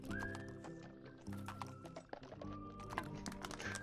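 Video game horse from What The Golf whinnying with rising, drawn-out calls over rapid galloping hoofbeats and thuds, loud and close, in a short burst lasting a few seconds.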